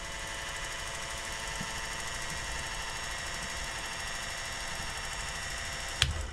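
An aircraft's electric fuel boost pump runs as a steady, even mechanical whine and hum with no change in rhythm, close and continuous, with one sharp click near the end.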